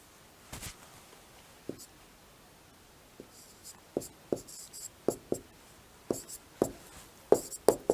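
Chalk tapping and scraping on a board in short strokes, sparse at first then quickening into a rapid run of distinct taps, close and fairly faint with a soft room hiss.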